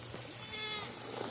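Goats on Yonah Mountain Farms bleat in a wavering, quavering call at moderate distance, with farm background noise and faint rustling around it.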